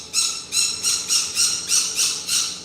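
A pet bird squawks in a steady series of about seven harsh, shrill calls, evenly spaced and close by, over a faint hum from a home reef aquarium setup.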